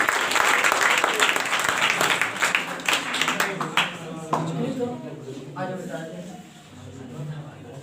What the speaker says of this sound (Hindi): तो ताली बजा के इसका हौसला अफजाई करेंगे